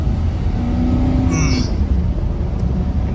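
A heavily loaded 2011 Ford Expedition Limited 4x4 pulling away on wet tires, a low steady engine rumble and road roar from inside the cabin with a brief squeal partway through.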